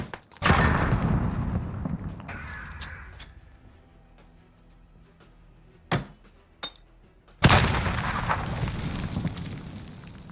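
Grenades thrown in a video game map's cave area: two heavy booming blasts with rumbling, debris-like tails, plus a few sharp clinks and impacts in between, close and loud, with no voices.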